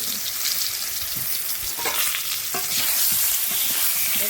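Potatoes fry in a pan over high heat, giving a steady loud sizzle broken by scraping stirs and a few sharp crackles, with no talking.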